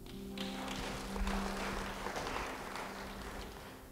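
Church congregation clapping during a sermon, a steady wash of applause that holds across the whole stretch with a low hum beneath.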